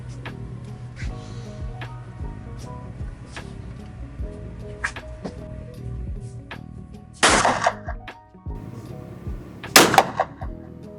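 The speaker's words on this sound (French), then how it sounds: "Donc on va exercer un autre tir de confirmation." A rifle confirmation shot fired outdoors at a range while zeroing a HIKMICRO Alpex 4K Lite scope, with one loud sharp report, a second sharp bang near the end and handling clatter between.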